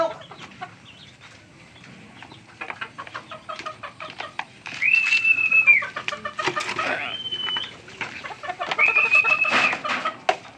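A rooster clucks and crows at close range among scattered chicken clucks and barnyard bird calls, with no talking.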